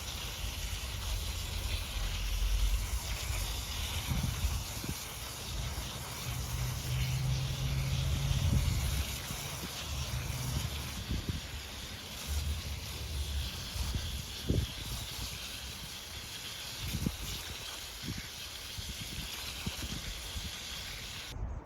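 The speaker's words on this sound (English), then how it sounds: "And now it's soaked in, we'll rinse it off." Water sprays and rinses a K&N air filter in a steady, faint hiss that runs continuously with small splashes and knocks, no voices heard.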